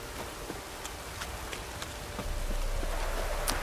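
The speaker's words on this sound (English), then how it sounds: "Oh, it's drizzling." Light drizzle in The Witcher 3, a soft, even patter of rain that swells slightly partway through, with faint hoof-like clops and occasional small ticks.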